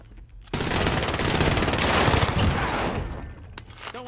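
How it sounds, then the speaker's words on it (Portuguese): Automatic gunfire in Call of Duty Warzone, a loud sustained burst of rapid shots lasting about three seconds before trailing off, with brief clicks afterward. "Estão atirando."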